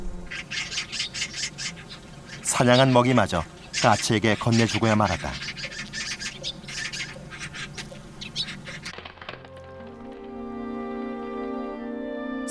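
A flock of magpies squawks harshly as it chases a sparrowhawk out of its territory near a pond, a burst of loud overlapping calls with a narrator speaking over and around them.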